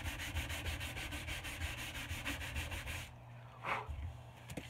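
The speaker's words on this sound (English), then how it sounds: "take your sandpaper and go the whole way up and around where you know the axe head is going to end" Steady, continuous rasping of sandpaper rubbed up and down a wooden axe handle while hanging a cruiser axe, close and even for about three seconds, then a sudden drop to quieter, sparser rubbing with one brief louder stroke.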